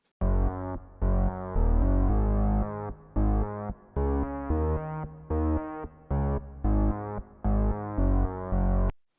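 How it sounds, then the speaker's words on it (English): Simple root-note bass line played on an Arturia Juno 6V software synth with an opening act bass preset, a run of sustained, clean notes with short gaps between them in a steady pop rhythm, heard alone without voices. "Next is this bass line that I made using Juno 6V by Arturia."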